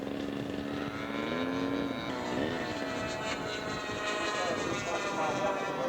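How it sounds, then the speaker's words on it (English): A Fleet biplane scale model aircraft flying at a show, its engine a steady droning buzz with shifting pitch as it passes, with voices in the background. "Fleet biplane."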